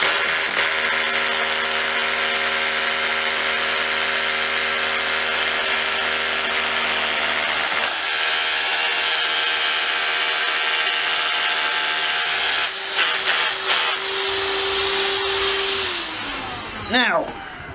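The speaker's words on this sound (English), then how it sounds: "Yep, got a knot in there. Okay. Trust the SDS again." An SDS hammer drill with an 8mm bit bores into wood through a knot, a loud continuous motor whine with rattling hammer action that dips partway, then winds down to a stop.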